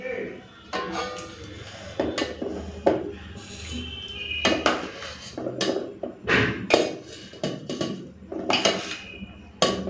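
Rice served onto plates alongside shrimp paste and cauliflower-potato curry, with irregular clattering of dishes, spoons and utensils knocking close by over a low steady background.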